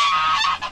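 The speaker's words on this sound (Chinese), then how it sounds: "鹅在生气。" An angry goose on a rural farm in Yujing, Taiwan, kept alongside Muscovy ducks, lets out a loud, close, harsh honk that holds for about half a second, then gives a shorter trailing call.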